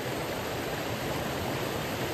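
A small stream in a river shrunk by drought and pollution, flowing with a steady, dense broadband rush of water that stays close and constant throughout, with no voices.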